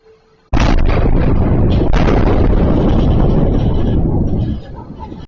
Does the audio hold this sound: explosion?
yes